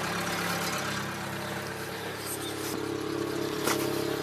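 A Suzuki SJ410 engine runs after being started following a period of sitting, a steady low mechanical idle heard close by with a brief louder blip near the end.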